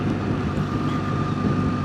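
Steady wind roar buffeting the microphone while riding a BMW R1300GS Adventure motorcycle, a continuous, loud, broadband rush with no talking.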